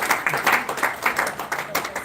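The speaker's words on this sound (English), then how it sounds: "let's give a round of applause to that amazing piece of work" Applause at a book launch for a guide to integration for new arrivals to the UK, a modest group clapping in pulsing waves, fairly close, with faint voices mixed in.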